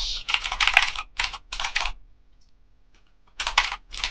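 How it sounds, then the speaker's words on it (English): Bursts of rapid keystrokes on a computer keyboard while an email address is entered, close and clear, with a pause of about a second and a half before a final flurry. "I'm going to type in my email"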